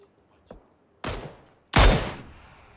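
Gunfire rings out in the battle royale game PUBG: a faint distant pop, then two loud, sharp shots about a second apart, each trailing off in a short echoing tail.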